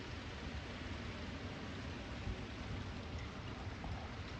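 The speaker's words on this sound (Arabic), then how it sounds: "سمعوا الشتا كيفاش كطيح" Steady rain falls at home in Morocco, making an even, soft broadband hiss with faint pattering and no talk over it.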